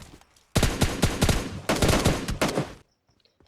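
Bursts of rapid automatic gunfire in PUBG Mobile Lite as a bot is killed, two dense volleys of shots close and loud, separated by a short gap and ending in near silence.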